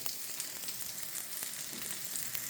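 Chopped meat cutlets sizzle steadily in a hot pan, a constant crackling fry with small pops and no voices.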